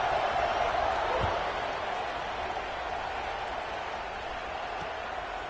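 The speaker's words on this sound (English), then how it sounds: "this crowd is buzzing after that last score" A football stadium crowd at a game against LSU keeps up a constant broad roar and murmur, loud and diffuse, with no single voice standing out.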